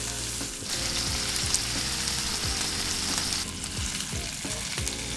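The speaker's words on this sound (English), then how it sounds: "Sear the sides of the roast in the pan about 1 minute on each side." A pork loin roast sears in a hot pan with a steady, loud sizzle that runs unbroken throughout, close by, with faint scraping now and then.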